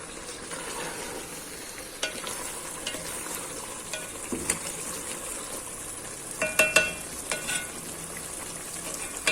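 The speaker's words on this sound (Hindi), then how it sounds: "और भून लेंगे। आग तेज करके" Potatoes and eggplant fry in a pan over high heat with a steady sizzle, broken by occasional scraping stirs and small clinks from the utensil against the pan.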